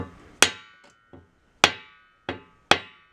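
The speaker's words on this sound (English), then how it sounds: "I use a rawhide mallet on there." A rawhide mallet strikes a metal part from a 1981 Ludwig New Bronze Model 6 1/2 x 14 inch snare drum set on a block: four sharp, loud, close blows with bright ringing decay, plus two softer taps between them.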